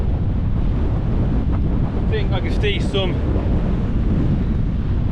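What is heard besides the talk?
wind on an exposed hilltop, the Lawley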